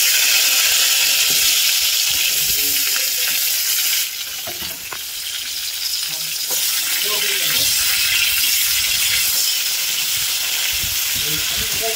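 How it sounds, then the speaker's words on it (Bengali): Potato and pointed gourd pieces, coated in salt and turmeric, fry in hot oil with a steady loud sizzle and hiss, broken by clinks and scraping of stirring, dipping briefly as the food settles. "এটাকে এবারে তেলে ভাজবো।"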